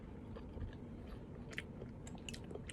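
Someone chewing macaroni pasta dressed with ketchup, soft close-up bites and mastication noises at low volume against a faint background hum.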